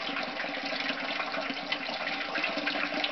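Sump pump discharging a steady, loud rush of water into a 10-gallon bucket, the flow constant and unbroken with no voices.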